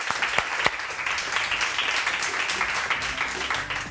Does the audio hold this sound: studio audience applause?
yes